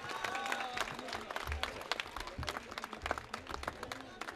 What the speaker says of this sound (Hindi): बहुत सारी तालियों में जनाब अताउल हक कासमी।